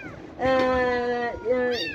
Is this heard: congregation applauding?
no